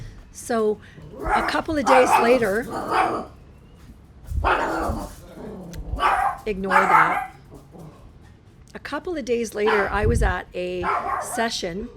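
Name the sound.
dog barking in the room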